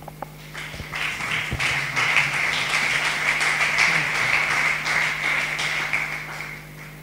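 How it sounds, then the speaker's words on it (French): A church congregation applauds and acclaims the Lord, a long, dense wash of clapping hands that stays even and fairly loud for several seconds, with a low hum beneath. "Acclamons le Seigneur."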